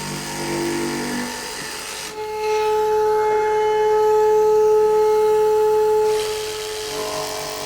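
A Hercules 20V cordless jigsaw cuts wood, its motor rising into a steady, loud buzzing whine for about four seconds, with quieter rasping before and after.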